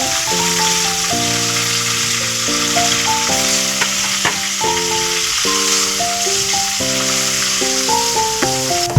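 Tamarind sizzles and crackles steadily in a hot pan while coriander chutney is being made at home. The frying is close and continuous, with melodic background music playing throughout.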